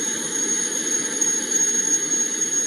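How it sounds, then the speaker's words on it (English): A jet engine roars steadily and loudly with a constant whine riding on top, drowning everything else out with no talking heard. "you can't really hear anything they're saying over the jet"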